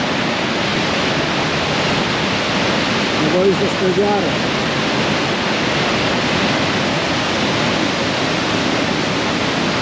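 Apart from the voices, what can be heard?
mountain stream flowing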